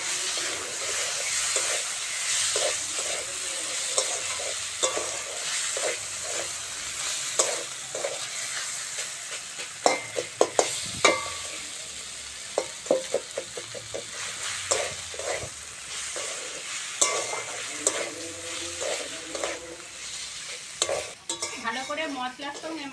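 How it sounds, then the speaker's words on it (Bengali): Fish head frying in a pan with spices and ginger-garlic paste for Bengali moong dal, a steady close sizzle with repeated scraping stirs of a spatula throughout. "ভালো করে মশলার সঙ্গে মাছের মাথাটা ভেজে নিয়েছি।"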